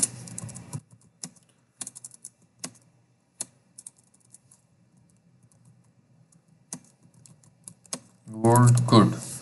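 Keys clatter on a computer keyboard as Java code is typed, with sparse, uneven taps and short pauses, close up. A voice briefly speaks at the very end.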